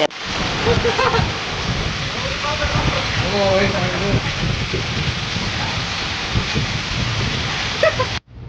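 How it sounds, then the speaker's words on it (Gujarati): Heavy monsoon rain pouring down in Palitana, a dense continuous roar of falling water close by, with occasional low rumbles and a voice talking beneath the downpour. "અત્યારે વરસાદ પણ ખૂબ સારો આવી રહ્યો છે"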